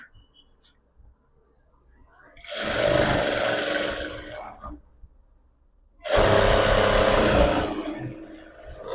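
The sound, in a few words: power sewing machine stitching a pillow cover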